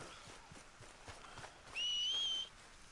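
A single rising, sustained whistle for a horse in Red Dead Redemption 2 sounds briefly over faint background noise and scattered soft thuds.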